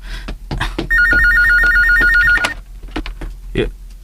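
A telephone rings with a fast trilling electronic bell for over a second, amid knocks and shuffling, with a voice speaking around it.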